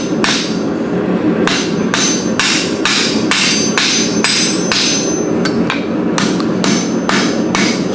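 A small blacksmith's hammer rings on a steel hook, planishing its corners with a steady series of about a dozen sharp, bright blows, close and loud with no talk.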